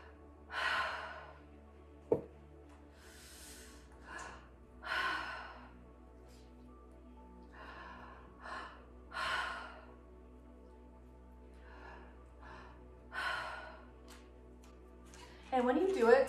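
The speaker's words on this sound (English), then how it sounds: "So it's 2 count inhale and a 1 count exhale." Breathwork demonstration of mouth breathing deep into the belly, with a two-count inhale and a one-count exhale repeated in several close, audible breathy bursts, each followed by a quiet pause.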